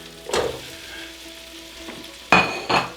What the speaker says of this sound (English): the onions have been cooking away